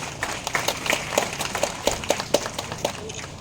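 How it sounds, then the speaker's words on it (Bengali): Audience applause at the closing ceremony of a driving training programme attended by the state Governor: a scattered round of claps, moderately loud and fairly sparse, with a faint murmur of voices underneath. "সকলের কাছ থেকে একটা করতালি আশা করব।"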